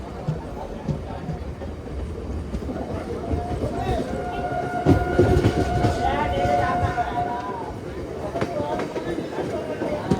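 A MEMU passenger train rolling into Akividu station at night, a steady rumble and rattle of coaches with a drawn-out horn tone in the middle, heard from inside the train with people talking over it.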